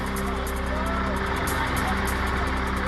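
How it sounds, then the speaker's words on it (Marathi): A tractor engine drones at a steady, close idle, its low, even hum unbroken throughout. "ट्रॅक्टरवर बसून आमदाराकडून स्टंटबाजी।"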